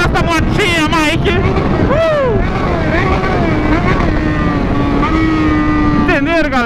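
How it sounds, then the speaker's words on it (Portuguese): A small motorbike engine revs up and down close by, its whining pitch rising and falling over constant rumble and wind noise, with people talking and shouting over it. "Taca ali pau nessa motinha, Mike!"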